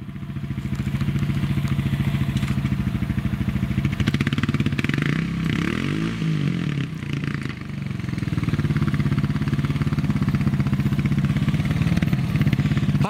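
Honda Fourtrax 450 ATV engine revving steadily and strongly while climbing over a log, a continuous, close, throbbing roar that dips briefly midway before picking up again.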